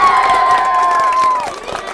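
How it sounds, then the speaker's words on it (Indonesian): A crowd gathered at an outdoor gathering cheers and shouts loudly, with a sustained vocal roar and scattered claps underneath, fading slightly toward the end. "Tepuk tangan dulu yang di belakang."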